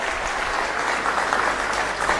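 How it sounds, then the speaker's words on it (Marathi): An audience at a community gathering in Aurangabad claps to welcome a guest, a steady, even wash of applause sustained at moderate loudness from start to finish. "आपण सर्वांनी जोरदार त्यांचं टाळ्या वाजवून स्वागत करावं"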